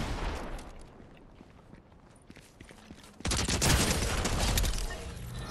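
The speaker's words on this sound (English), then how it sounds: "I'm trying to shoot the guy that's shooting you" Gunfire during a Fortnite battle royale duos match, scattered shots and footsteps at first, then a loud sustained burst of rapid automatic fire that fades slightly at the end.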